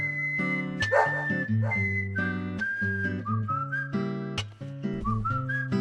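Willie, the friendly dog in the video game Deadly Premonition, gives a few short whimpers and yips over steady melodic background music, close by with no talking.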